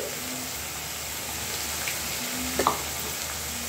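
Chicken pieces frying in a pan for green hariyali chicken curry, a steady close sizzle that sounds almost like rain, with a couple of brief clinks near the end.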